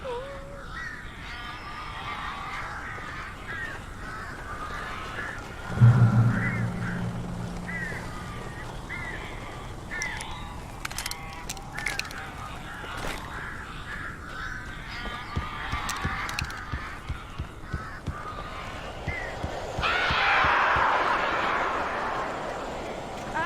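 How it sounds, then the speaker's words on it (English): Crows and other birds in the Alan Wake video game caw and honk harshly amid an eerie ambient backdrop, with a loud thump early on and a swelling rush of flapping noise near the end. "A couple of them got in here before I blocked the chimney. This isn't normal. These birds are weird."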